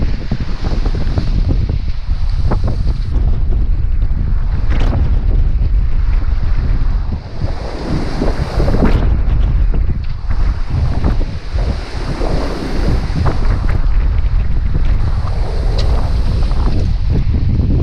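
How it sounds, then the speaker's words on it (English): Strong wind roars steadily over a boat under way at sea near Kodiak, Alaska, with gusty buffeting on the microphone and rushing water and waves beneath, continuous and loud with no talking. "Getting windy, that's for sure."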